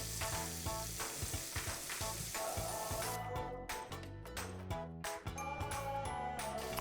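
Scrambled eggs fry over low heat in melted coconut oil, giving a continuous close sizzle with rhythmic stirring and tool clinks throughout, no voices.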